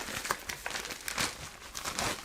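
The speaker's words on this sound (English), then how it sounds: "this plastic bag, which is in a bubble" Crisp crinkling of a plastic bag being handled up close, a run of rustles and crackles with no voices.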